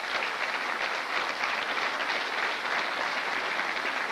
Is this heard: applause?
yes